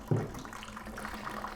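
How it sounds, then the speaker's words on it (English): Water draining from the boilers of a Lucca M58 espresso machine, a soft continuous trickle and gurgle of flowing water with a brief hiss-like burst at the start, quiet and close. "that will help expedite the flow of water through the boilers"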